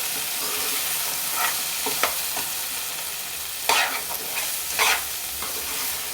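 Okra curry with salt and chili powder fries in oil while a spoon stirs it, producing a constant close sizzle broken by several louder scraping clatters against the pan.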